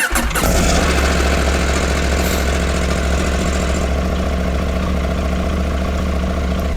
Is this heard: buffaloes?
no